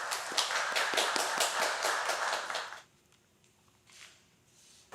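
Applause from an audience at the 21st Underwood missionary award ceremony, a dense burst of clapping with rhythmic emphasis that cuts off abruptly after a few seconds, leaving a quiet hall with faint stray sounds.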